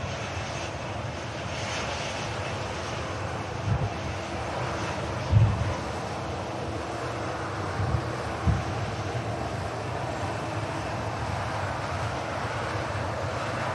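Scandinavian Airlines jet departing Manchester Airport for Copenhagen, a steady distant engine roar with wind buffeting the microphone and a few brief thumps.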